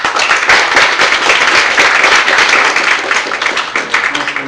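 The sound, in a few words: audience applause at a book launch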